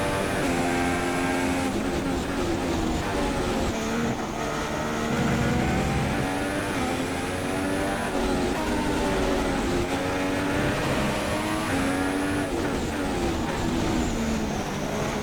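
Simulated Formula 1 race car engine in the F1 2016 video game at the Australia circuit, a loud continuous high-pitched whine with repeated rising and falling gear-change sweeps, engine alone without talk.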